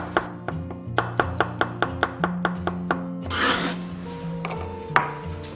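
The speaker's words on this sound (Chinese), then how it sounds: "准备半个红椒，改刀一下，然后给它斜刀切菱形块。" A knife chops half a red bell pepper into diamond pieces on a board, a quick even run of about a dozen crisp taps, followed by scraping and a final knock.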